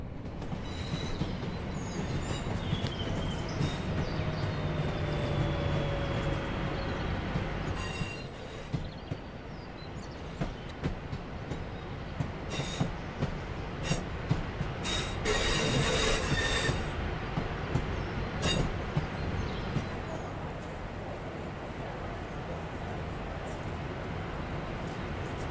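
A passenger train on the Glossop Line in Train Sim World 3 rolls along the rails with a steady low rumble, faint rhythmic clicks and recurring squeals of wheels, heard from onboard.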